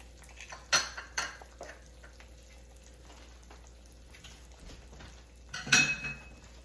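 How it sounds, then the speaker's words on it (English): An egg fries in a pan with a faint, steady sizzle, broken by a few brief clinks of a utensil against the pan. "The pan is going to cook it."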